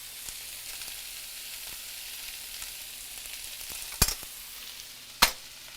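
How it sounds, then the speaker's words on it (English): Vegetables for shrimp tacos sizzle steadily in a hot pan, a soft continuous crackle with two sharp knocks of a utensil against the pan, no voices over it. "I'm going to go ahead and drop the vegetables in"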